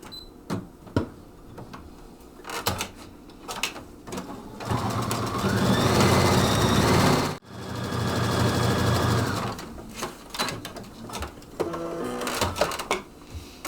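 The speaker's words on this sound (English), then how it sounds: "First thing I need to do is I need to sew around the outside of this Christmas stocking." A Brother Stellaire sewing machine stitches around the outside of a Christmas stocking in two sustained whirring runs, broken by a short pause, with quieter clicks and handling sounds before and after.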